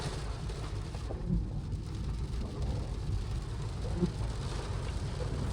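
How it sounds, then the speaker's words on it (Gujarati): Heavy rain falls in a steady, broadband wash outdoors near a Mahadev temple, with faint low rumbles and occasional thuds beneath the constant downpour. "ફૂલ જોરદાર વરસાદ પડી રહ્યો છે."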